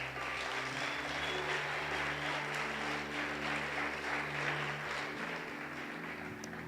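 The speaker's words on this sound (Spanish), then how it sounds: "¿Qué tal si le damos aplauso a esas ovejas?" A church congregation applauds during a service, a sustained wash of many hands clapping at moderate distance, steady throughout with a low hum underneath.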